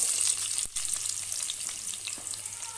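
Chopped onion frying in hot oil in a pan on a gas stove, a dense continuous sizzle with a brief dip near the start, close and fairly loud, no talk.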